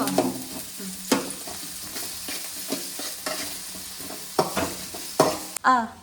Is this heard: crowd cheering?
no